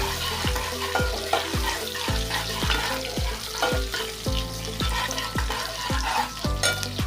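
Three green chillies fry in a pan over a low flame with a steady crackling sizzle, punctuated by a regular series of soft thuds and scrapes from stirring.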